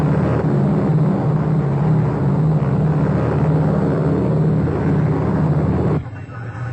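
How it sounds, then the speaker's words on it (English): Grumman Tracker propeller aircraft droning steadily and loudly, a dense continuous hum that drops off abruptly near the end, with a narrator speaking over it. "Grumman trackers, each a deadly tracking and weapon system for fast search"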